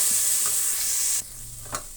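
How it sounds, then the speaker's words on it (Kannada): Puliyogare gojju is stirred and fried in a pan, giving a steady soft sizzle with light scraping stirs, then a quieter stretch with one brief scrape, close and without talk. "ಈಗ ಸಿಮ್ಮನ್ನು ನಾವು ಡೌನ್ ಮಾಡಿಕೊಂಡು ಚೆನ್ನಾಗಿ ಫ್ರೈ ಮಾಡ್ಕೊಳ್ಳೋಣ"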